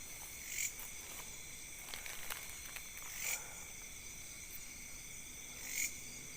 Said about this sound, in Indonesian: itu suara jangkrik sepertinya teman.